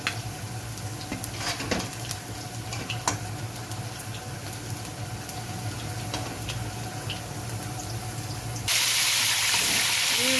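Chicken pieces frying in hot oil in a pan for a restaurant-style white chicken karahi, a steady hiss and sizzle that surges into a louder, brighter spitting burst near the end.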